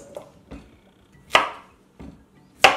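A knife chops vegetables into slices on a board for a hen soup, giving five separate sharp thunks at uneven intervals. The third and fifth are loudest and crispest, and the surroundings are otherwise quiet.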